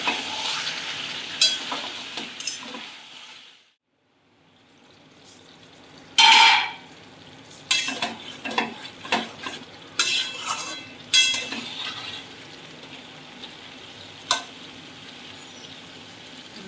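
Mixed vegetables being stirred in a cooking pan with a spoon, as for a Bengali mixed vegetable curry: steady frying sizzle under intermittent scraping and clinking strokes of metal against the pan, close by, with a brief quiet gap near the start.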